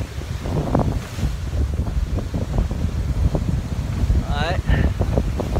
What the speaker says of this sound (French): Et puis dehors ça envoie pas mal. Pas que je sorte trop parce que je viens d'enlever mon ciré. Et la mer commence à être bien grosse là.